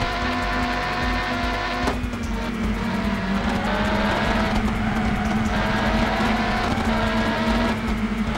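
A prototype race car in the PS1 game Le Mans 24 Hours accelerates hard, its engine note climbing through repeated rising gear sweeps, loud and continuous with no talk.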